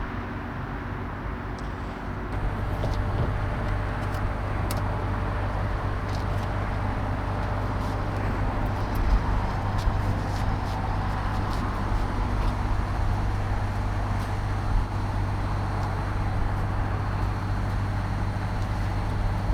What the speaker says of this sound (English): air compressor starts, and you hang out for about 2 minutes while this thing inflates